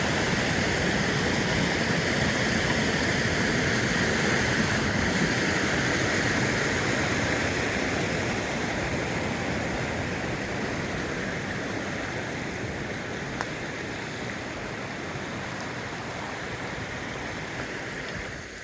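Fast, clear creek water rushes in a steady broadband roar through a nature preserve, loud and close throughout, easing slightly toward the end, with no voices.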